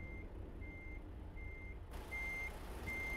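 Repeated electronic reversing beeps from a truck in the American Truck Simulator game, a steady pulsing tone sounding five times over low engine rumble, with no talking.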